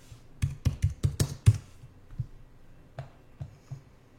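Close, loud typing on a computer keyboard comes as a quick burst of sharp clacks, then slows to a few scattered, softer keystrokes with pauses between them.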